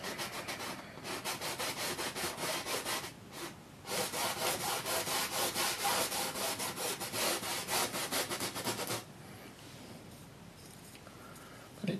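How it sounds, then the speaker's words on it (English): Paintbrush scrubbing oil paint onto canvas for a rough sea and sailboat painting: a dry, raspy back-and-forth rubbing in rapid strokes, close and steady, with a couple of short pauses and quieter scratching toward the end. "This one I'm more scrubbing paint rather than"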